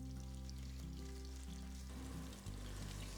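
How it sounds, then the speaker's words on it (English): Beef short rib sears in smoking-hot oil in a red-hot pan, giving a dense, continuous frying sizzle, close and steady with no talk. "Season your meat all over and start to sear it off once the pan's red hot"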